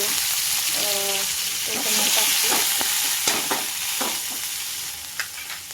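Green chillies fry in a pan with crushed garlic and cumin seeds, giving a steady close sizzle broken by scattered spatula taps and stirring scrapes.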